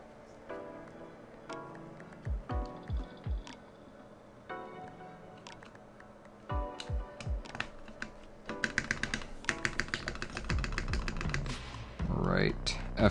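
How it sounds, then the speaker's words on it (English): Keycaps are pressed one at a time onto a white Keycult No. 1/65 mechanical keyboard, giving scattered plastic clicks and taps that quicken into dense rapid clatter, with quiet talk in the background. "Since this is a white board, I'm going to put white keycaps on it."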